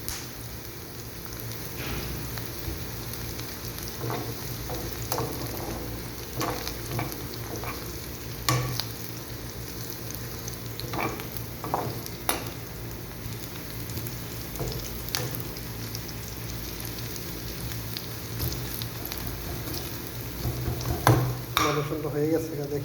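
Garlic frying in a pan while cooking ladies' fingers (okra) for a bhorta, a steady soft sizzle broken by repeated scrapes and clinks of a spoon stirring against the pan, close by, with no talk.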